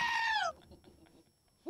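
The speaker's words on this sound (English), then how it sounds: "This one says goat scream." A goat screams in one loud, wavering bleat that cuts off sharply, followed by quiet low rumbling and a brief rise at the end.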